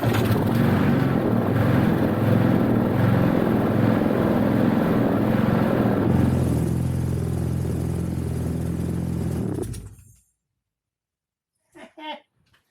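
Petrol engine of a mouldy Mountfield push mower running steadily and loud near the microphone, tone shifting partway through before the engine cuts out, followed by a brief voice.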